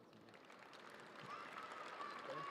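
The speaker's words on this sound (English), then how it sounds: "Nice round of applause there." Scattered crowd applause fills a high school girls' basketball gym, faint and distant, swelling slightly as an injured player is helped to the bench, with a squeaky shoe or whistle-like tone over it.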